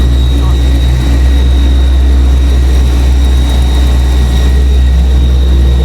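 A Dodge Hellcat Magnum engine runs loud and steady, a heavy low rumble with a constant whine above it, while people talk nearby.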